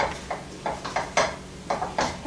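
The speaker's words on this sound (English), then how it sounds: "And now I'm going to just give that a quick stir." A spoon stirs cumin and other chili ingredients in a pot, giving a steady series of light scraping clinks and knocks at an even rhythm.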